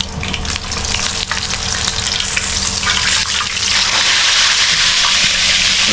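Food frying in a pan with vigorous, continuous sizzling and crackling, loud and close, with occasional stirring clatter as the spitting intensifies toward the end; the dish is Sarsiyadong Lapis, cooked in Sharjah, U.A.E.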